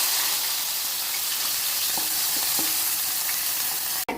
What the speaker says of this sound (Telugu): ముందుగా కట్ చేసి ఉంచుకున్న ఉల్లిపాయ పచ్చిమిరపకాయ వేస్తున్నాను